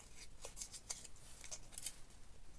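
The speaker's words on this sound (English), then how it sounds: "So there's a score line on there, so I'm just trimming along the score line." Scissors trim a card panel along a score line in several quick, faint snips against a quiet background, with no talking.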